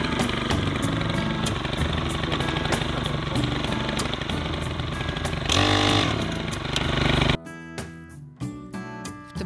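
A small petrol earth auger drills planting holes in an old-style orchard, its loud, steady engine drone running continuously up close before it abruptly cuts to a lighter, uneven chugging near the end.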